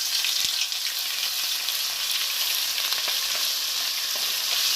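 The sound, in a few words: maize and spices frying in oil in a pot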